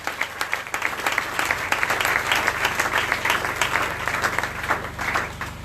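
A church congregation applauding to acclaim the Lord, steady dense clapping from many hands that fills the room and keeps going without a break.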